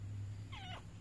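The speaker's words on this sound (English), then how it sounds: "I guess that's the cat's way of saying hi." A domestic cat gives a single short, faint meow over a steady low hum, heard alone with no one talking.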